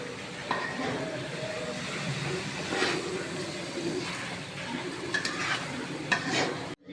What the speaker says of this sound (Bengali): এখন সাথে কিন্তু মুরগি কষা হচ্ছে, আর সাথে কিন্তু তেল ঢালা হচ্ছে খিচুড়ির জন্য